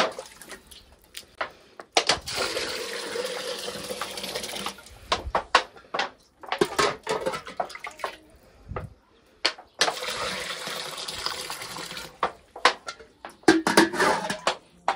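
Water pours into a tin container in a village home in two steady rushing bursts, separated by clinks, knocks and small handling sounds at close range.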